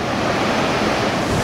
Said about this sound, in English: A fine mist is formed by the cascading water, bouncing back from the smack of the river floor